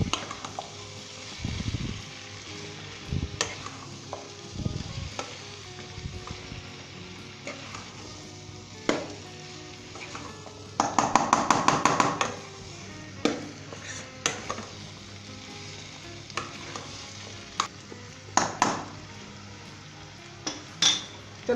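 A cooking pot of halwa kaddu, chopped pumpkin, being mixed with a spoon, giving scattered clinks and scrapes against the metal over a low steady background, with a brief rattling burst near the middle.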